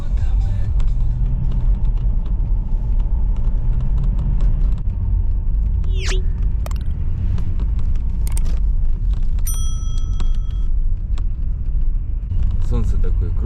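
A car engine and exhaust rumble steadily at close range on a winter ice road near Yakutsk in about minus fifty degrees cold, a continuous low drone with faint clicks and a voice talking over it.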